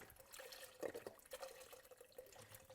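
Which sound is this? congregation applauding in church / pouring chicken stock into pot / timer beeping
pouring chicken stock into pot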